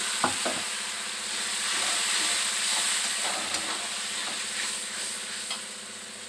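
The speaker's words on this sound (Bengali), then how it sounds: "হলুদ গুঁড়ো লঙ্কার গুঁড়ো দিয়ে দিচ্ছি অল্প একটু জল" Turmeric and chili powder with ginger, tomato and green chili paste sizzle and hiss in a pan after a splash of water, a close, steady frying crackle with a few stirring clinks and no voices.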